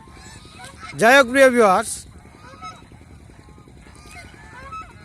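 Geese on the far side of a river honk in a short loud burst of several calls, then fade into faint distant honks while someone talks nearby.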